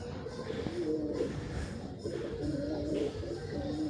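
Low, soft cooing from several pigeons after rain, some inside a coop and others moving about outside, rolls on continuously, overlapping calls with a faint rustle of movement in the background.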